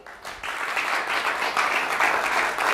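Studio audience on a French-language Saturday-night TV show applauding a guest, steady dense clapping swelling after a brief quiet start and holding loud to the end.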